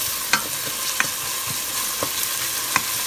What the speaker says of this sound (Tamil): பச்சை மிளகாய், கொஞ்சம் கருவேப்பிலை. எல்லாம் சேர்ந்து நல்லா வதங்குது.